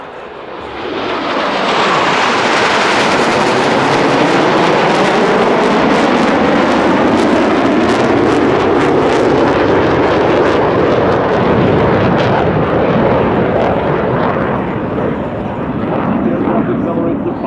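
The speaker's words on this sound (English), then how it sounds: "each pilot will perform an individual brake turn and exit the flight line in a separate direction." US Navy Blue Angels jets roar low over an air show crowd during a break-cross maneuver, a loud sustained jet rumble that swells and sweeps past, heavy and continuous, while a commentator speaks over it.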